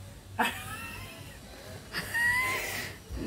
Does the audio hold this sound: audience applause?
no